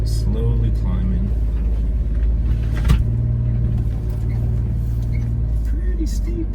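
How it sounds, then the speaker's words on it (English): A 4x4 crawls up a steep trail at Hackett Gulch, Colorado, in four-low first gear, its engine a steady, loud low rumble throughout, with a person's voice heard over it. "Just in 4 low, first gear, slowly climbing."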